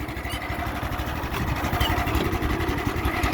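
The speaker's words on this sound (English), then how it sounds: "Engine seems to be running pretty good." A small engine idles close by with a rough, pulsing chug that grows a little louder toward the end, running alone without talk.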